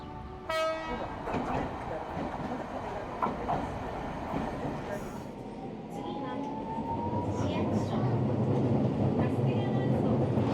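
A tram runs through Nagasaki, Japan, its wheels rumbling and clattering steadily with a brief horn or bell near the start and a rising whine, amid street noise and talk in the background.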